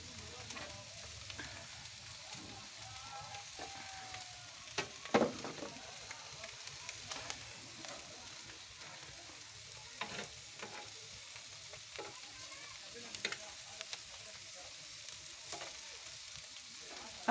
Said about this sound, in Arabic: دي الحديدة دي اسمها عصاية فرن، بقلب بيها السمك.